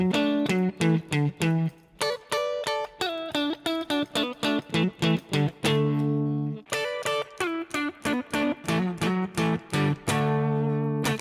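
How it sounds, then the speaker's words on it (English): A distorted electric guitar plays a series of chords and riffs, with crisp attacks and short pauses between phrases. "Now, if I use distortion, we could mask that a little bit,"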